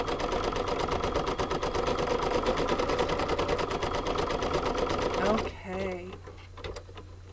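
An in-the-hoop embroidery machine stitches a bee coaster with a fast, steady mechanical chatter lasting about five seconds, then abruptly stops and a voice briefly speaks in the quieter moment after.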